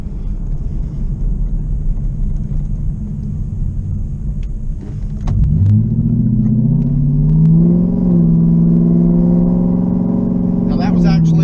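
A Corvette with a new RPM transmission and TCI torque converter roars loudly under wide open throttle, its engine note rising, settling, then climbing again through the shifts, with a person talking over the engine.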